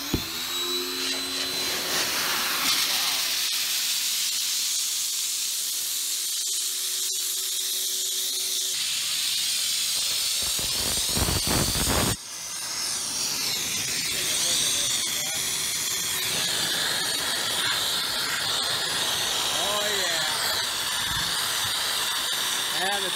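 A micro boiler's gas burner runs with a steady roaring hiss that fills the whole clip, with a brief break partway through before it carries on just as strongly.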